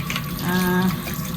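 Water pours from a kitchen tap over a block of frozen fish in a sink, a short, steady splashing gush that swells slightly in the middle.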